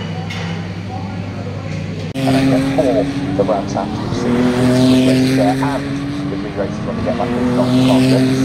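Ginetta GTA race cars of identical specification, racing at Donington Park during a British GT meeting, roar past loudly with high revving engines and rising, falling whines, several cars overlapping, with people talking nearby.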